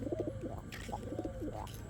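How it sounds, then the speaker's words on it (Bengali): Pigeons coo in soft, throaty bursts, a few close repeated calls with a brief rustle between them. "এই রাইন কবুতর দেখ কবুতর দেখা"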